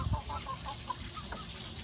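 A backyard chicken clucks in short, soft, repeated notes at a moderate distance, set against steady low background noise with no voices.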